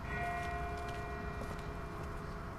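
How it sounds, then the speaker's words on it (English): A distant church bell tolls faintly in a video game set in The Walking Dead, its steady ringing tones sitting low under a soft ambient wash with no talk. "That's not the same bell as before. This one's further off."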